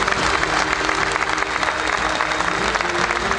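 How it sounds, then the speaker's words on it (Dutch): A crowd in an event hall gives sustained, even applause, thick and constant from start to finish with no voice rising above it. "Dames en heren, een groot applaus voor Barbara de Loor en Wilfried de Jong"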